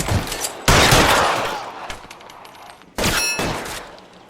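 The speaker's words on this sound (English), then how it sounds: "Covering fire!" Covering gunfire in the video game L.A. Noire comes as two loud bursts of rapid shots, the first long and decaying, the second shorter after a brief gap, close and without speech.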